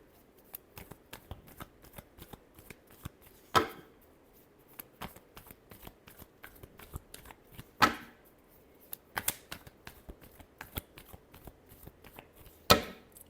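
A deck of tarot cards is shuffled by hand in a quiet room, producing a long run of quick, crisp riffling flicks broken by a few louder snapping bursts as the cards are bridged.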